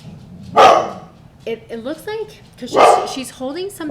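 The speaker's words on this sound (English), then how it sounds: "oh, sorry, that's my dog." A pet dog barks several loud, close sharp barks indoors, in bursts between a woman's speech.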